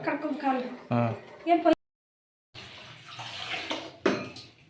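Tap water runs into a basin as someone washes their face in a village home. The rushing and splashing are heard under a person talking, cut by a brief silent gap.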